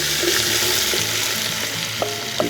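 Onions frying in bacon grease in a pan, a continuous close sizzling hiss with a few light clinks and sputters near the end, no speech.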